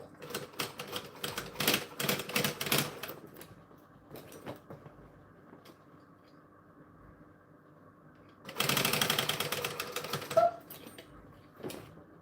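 A sewing machine stitches across a zipper on a bag, with rapid mechanical bursts at the start, a quiet handling gap, then a strong sustained run of stitching and a final short burst, no voices.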